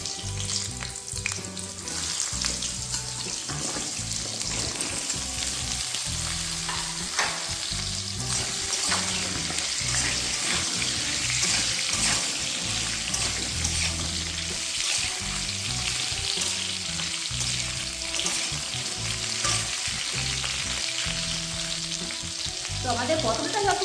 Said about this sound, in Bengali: একই তেলে কিন্তু আমরা পটলগুলোকেও এখন ভেজে নেব।